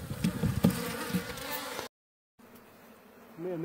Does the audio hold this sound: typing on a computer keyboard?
no